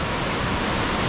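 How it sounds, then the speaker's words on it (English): Aira Force waterfall in the Lake District thunders close by on a sunny day, a loud and constant wash of rushing water with no break and no speech. "it's time to say goodbye to this fantastic waterfall behind me"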